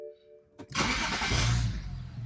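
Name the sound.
BMW N54 car engine starting up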